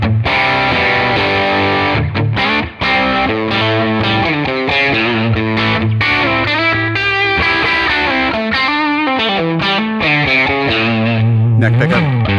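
Overdriven electric guitar through a Tonex capture of an OD1 overdrive without fat settings plays a continuous run of sustained distorted chords and notes, loud and up front, with no voices.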